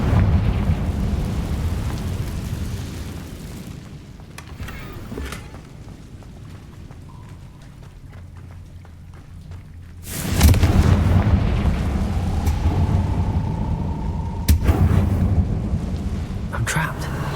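A spell blast goes off in the wizarding game Hogwarts Legacy, a sudden booming burst midway through a rumbling ambient bed, with a second sharper hit shortly after and a voice speaking faintly before it.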